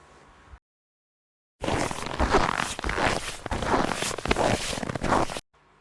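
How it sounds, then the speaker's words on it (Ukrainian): Footsteps crunch and creak through snow in a steady run of squeaky compressions lasting several seconds, close-up with no voices. "Так скрипить сніг, коли ми по ньому ходимо."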